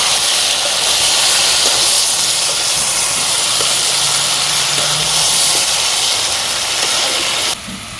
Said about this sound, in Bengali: পুরা ভাজি চালু।